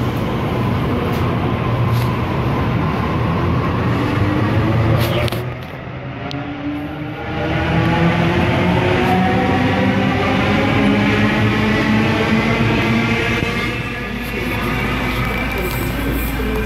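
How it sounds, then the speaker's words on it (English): A Sydney suburban train pulls into platform 2 at Cabramatta station, a loud sustained rumble with rising and falling whine tones as it arrives and slows, with a brief lull midway. "Liverpool service arriving into platform 2"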